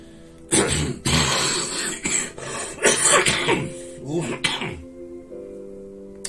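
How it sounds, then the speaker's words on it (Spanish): A run of harsh, close coughs bursts out one after another, then trails into quiet near the end. "estoy con una tos que a lo mejor no me va a dejar seguir"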